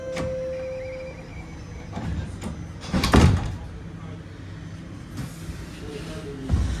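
Doors of a Toronto TTC Line 4 Sheppard subway train slide shut with a thump after a chime, followed by rumbling car noise; a recorded announcement and someone talking sit over the sounds.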